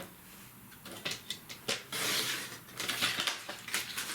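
Paper strip being cut for a scrapbook page with scissors, a series of crisp snipping and crunching sounds at close range, irregular and fairly quiet, with no talking.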